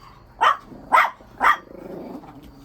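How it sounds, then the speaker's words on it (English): A dog barks three times in quick, evenly spaced bursts, fairly close, followed by a low rumbling growl as it trails off. "who you barking at?"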